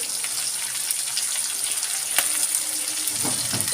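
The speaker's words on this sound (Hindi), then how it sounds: "तो मैं अब इसमें डाल दूँगी प्याज।" Chopped onion goes into a pan of browned garlic and fries, giving a steady, close, loud sizzle with crackling bursts and a few light stirring clinks, with no talking.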